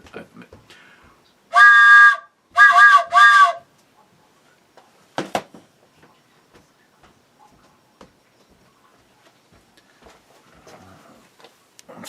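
A cowbell-style novelty whistle is blown in two loud, close bursts of about a second each, followed by quiet room sounds and occasional faint talk.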